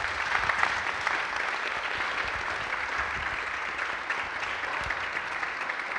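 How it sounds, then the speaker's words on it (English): Steady applause from a crowd, continuous clapping at an even level throughout with no talking. "a big round of applause for our presenters"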